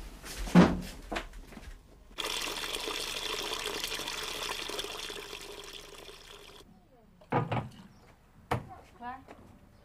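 Water runs out of a rain barrel in a steady, moderately loud gush for several seconds, framed by clunks and voices talking before and after the flow.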